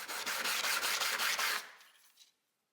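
A steel card scraper edge is rubbed back and forth on a sharpening surface, a rapid run of short rasping strokes close up that stops abruptly and fades into silence.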